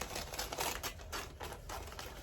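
Gift wrapping paper being cut with scissors, a quick series of close, crisp snipping and rustling strokes in an uneven rhythm.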